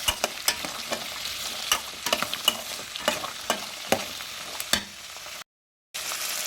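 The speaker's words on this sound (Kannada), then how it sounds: "ಸ್ವಲ್ಪ ಟೈಮ್ ಆಯಿಲಲ್ಲೇ ಫ್ರೈ ಮಾಡ್ಕೊಳ್ಳಿ." Fresh green peas frying in oil for a pea curry, with a steady bright sizzle and a rapid series of sharp spoon scrapes and taps against the pan, close up and with no talking.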